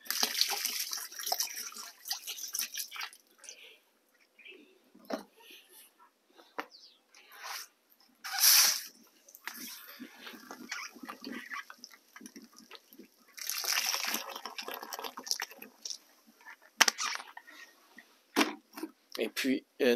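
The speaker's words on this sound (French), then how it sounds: "Nous allons verser l'eau de coco" Coconut water is poured into a container for homemade bio-fertilizer, giving intermittent splashing and trickling bursts, near and fairly faint, mixed with quieter gaps and some handling noise.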